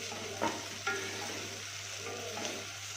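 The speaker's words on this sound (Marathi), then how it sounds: "आता मी टाकते त्याच्यात हे चवळी हिरवी चवळी" Green cowpeas drop into a hot frying pan and are stirred, making a soft, quiet sizzle with a few clattering scrapes of the spoon against the pan.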